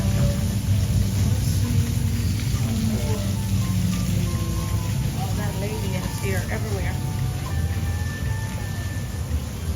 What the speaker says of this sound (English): This is such a cool storm.